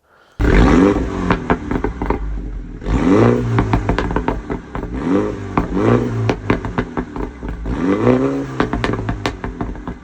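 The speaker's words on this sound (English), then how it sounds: "basically opens up the valves inside this exhaust, and it sounds absolutely mental" A Mini John Cooper Works with its exhaust valves open, revved hard in repeated bursts that rise and fall, loud and close, with crackles and pops between blips and no one speaking.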